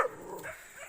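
A brave dog on a mountain trail gives a short, sharp bark right at the start, fairly close, then the sound fades into quiet outdoor ambience.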